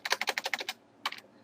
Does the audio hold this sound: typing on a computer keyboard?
yes